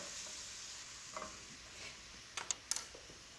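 Onions mixed with spices cooking in a pan, their moisture loosening the browned bottom, giving a soft, quiet frying hiss with a few sharp clinks of a utensil against the pan near the end.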